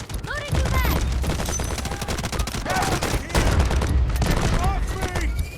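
Rapid bursts of automatic gunfire from the mobile shooter game Delta Force Mobile during an attack-and-defend match, loud and dense, with several sustained volleys and short pauses, game voice callouts mixed in.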